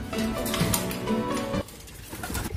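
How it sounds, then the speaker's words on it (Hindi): Pigeons coo softly in a low, throaty rhythm, repeated several times against quiet background noise. "ये देखिए सारे कबूतर अपने आगे उड़ के"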